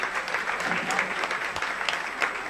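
A seated audience at a Jain religious discourse keeps up steady applause, many hands clapping in a continuous, fairly even patter at moderate volume.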